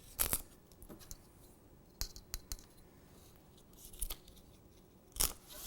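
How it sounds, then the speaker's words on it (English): Stencil sheet torn slowly by hand while shaping a rectangle for a decorated cookie, giving a few sharp, crisp ripping bursts spaced across a quiet stretch, close and fairly soft, with no talking. "When I do it more gradually, the tear, rather than pulling it back, I just have a little more control over the tear."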